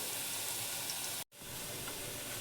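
Tomato pieces with salt fry in a hot pan, a steady loud hiss and sizzle broken by one brief silent gap partway through, no talking.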